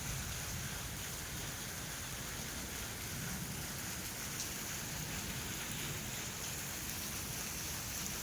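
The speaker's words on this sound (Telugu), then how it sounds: "ఈ వాన చాలా బాగుంది" Summer rain falls steadily as a dense, even hiss of drops on surfaces that holds unbroken throughout, loud and close.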